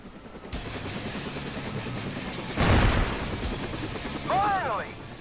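Gunfire in the helicopter combat game Thunder Wolves: a steady rumble of rapid shooting with a heavier blast near the middle and another burst toward the end, a short voice line heard over it.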